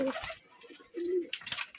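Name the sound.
large male Giribaz pigeon cooing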